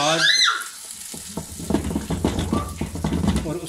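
Potatoes and fresh peas for aloo matar pulao are stirred in a pot, with scraping, clattering stirs over a light sizzle. A brief tonal sound opens the clip.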